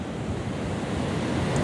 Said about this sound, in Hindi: यहाँ पर देखिए हट से ये पानी टकरा रहा है